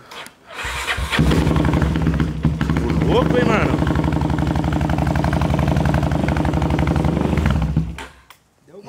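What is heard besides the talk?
motorcycle engine starting and idling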